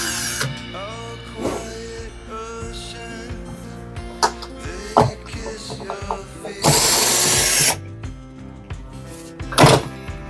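Screws are removed from the main control board of an Electrolux dishwasher: scattered clicks, thunks and ratcheting from a screwdriver and handled parts, with a louder burst of tool noise midway and no talking.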